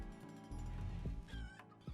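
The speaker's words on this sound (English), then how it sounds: "we have our free-range chickens over here" Free-range chickens in the video game RimWorld give a few short, close clucks in quick succession over a steady background hum.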